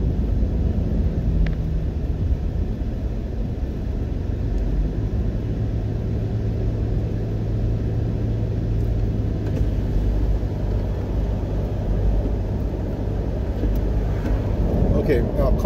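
Steady, dense road rumble from cars on a busy highway in Jamaica near Portmore and Mandela Highway, with constant engine and tyre noise, heard from inside a moving vehicle.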